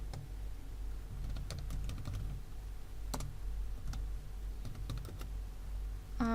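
Quick bursts of keystrokes on a computer keyboard while code is typed, irregular clusters of crisp taps with short pauses between, close and fairly quiet, no talking.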